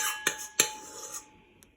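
A metal spoon clinks against a glass while whipped dalgona coffee is spooned onto cold milk: two sharp taps close together, a softer third, then a faint final tick, with no voices.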